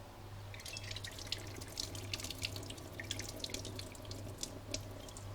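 Excess water being poured off soaked rice in a kitchen while cooking masoor dal khichdi, a steady close splashing trickle with small drips and no talking.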